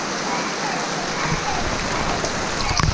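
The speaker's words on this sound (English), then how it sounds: "You hear how loud that rain is? It's like hardcore rain." Heavy rain pouring down steadily at an abandoned elephant safari, loud and close, with a dense, continuous hiss across the whole stretch; any frogs are buried under the downpour.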